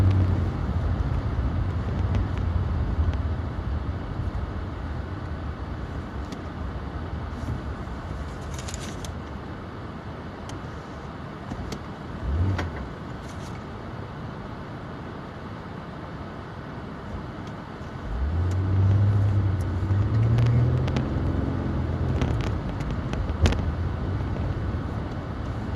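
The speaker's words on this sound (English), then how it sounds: "I'm just driving to work." A car driving on the road on a Monday morning commute, a steady interior rumble of engine and tyres, swelling louder in the last stretch as the vehicle accelerates.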